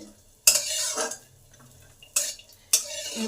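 Cashews and raisins frying lightly in ghee in a pan, stirred with a utensil: a few sharp scraping strokes and clinks separated by quieter stretches of soft sizzle, close and fairly loud.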